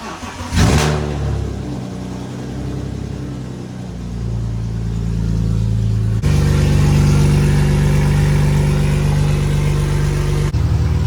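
A BMW E46 engine starts with a sharp burst, then idles and revs up, its throaty stainless steel exhaust growing louder and holding a steady drone, close and loud.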